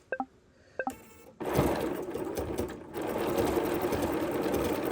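After a couple of faint electronic beeps, a sewing machine starts up close and runs steadily while backtracking over a seam, whirring continuously with a brief dip in pace.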